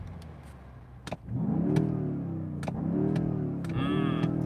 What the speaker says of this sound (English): Let's just end with some revs.